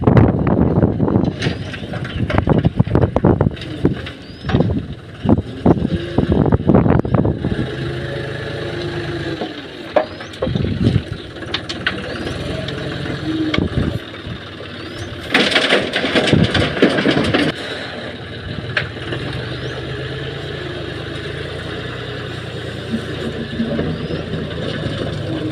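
A tractor engine runs steadily while a loader fills its trolley with cattle manure, a continuous low mechanical drone broken by loud bursts of clattering and thumping from the loading, with outdoor background noise and no talk.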